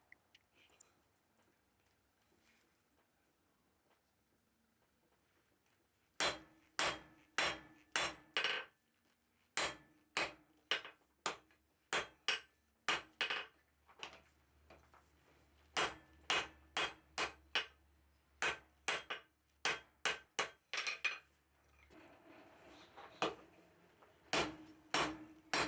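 Hammer blows forging a 1/2-inch square steel bar into a tong blank, ringing sharp and close in quick rhythmic bursts of strikes with short pauses between, after a quiet opening of several seconds.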